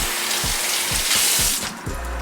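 Tap water runs steadily over green onions being rinsed in a kitchen sink, a close, continuous broadband splash with a few low knocks as the bunch is handled under the stream.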